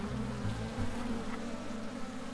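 A steady low hum of honeybees massed at a beehive, continuous and close with no voices over it, the winter colony droning in a dense, even buzz.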